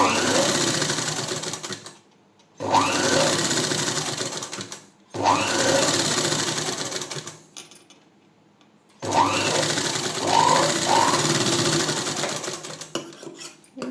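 Sewing machine stitching thread piping with a normal presser foot, running in three long steady bursts separated by short pauses, close and loud, with faint voice traces between runs.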